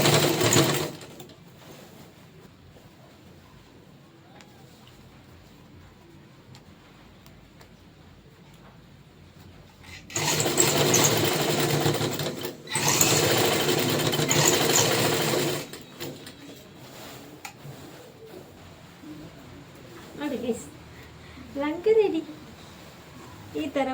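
A sewing machine runs in two loud bursts while stitching a folded strip onto a long skirt, with quieter pauses and someone speaking before and after the stitching.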